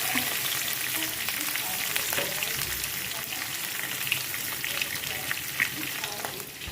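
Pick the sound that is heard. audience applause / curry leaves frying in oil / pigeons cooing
curry leaves frying in oil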